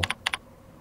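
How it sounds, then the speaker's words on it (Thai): A computer keyboard gives a quick burst of four light key taps in two pairs, close and crisp, followed by a quiet pause. "พิมพ์ชื่อโดเมนของเรา"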